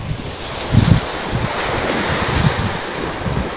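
Surf rolls in at Tushan Beach, Karachi, with strong wind buffeting the microphone; waves break in low repeated surges, loud and close, with no voices.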